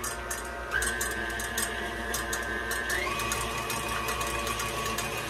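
An electric mixer beats egg whites with cream of tartar for keto eggnog. Its motor whirs steadily close by and its pitch steps up twice as the speed increases, with no talk.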